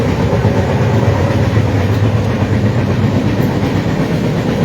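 A train in Kerala rumbles steadily at close range, a loud continuous roar with a faint rhythmic clatter of wheels on track.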